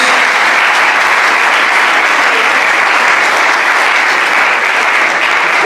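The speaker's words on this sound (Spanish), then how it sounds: "denle un aplauso al Señor" Loud, sustained applause from a church congregation offered to the Lord during a sermon on Hebrews, a thick, unbroken roar of clapping that stays level throughout.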